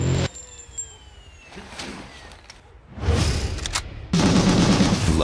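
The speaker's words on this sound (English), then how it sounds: "whatever you do, don't stop shooting" Bursts of gunfire with whooshes and booms from the action video game Gungrave G.O.R.E, loud rapid volleys separated by quieter stretches, with no talk.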